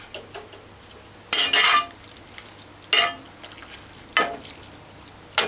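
Ketchup is stirred into okra and saltfish in a cooking pot, a spoon clanking and scraping against the metal in about four distinct strokes, near and fairly loud over a quiet background.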